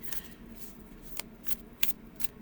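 Tarot cards being shuffled overhand by hand, giving soft riffling swishes with a few sharper slaps as the cards drop, close and fairly quiet with no talking.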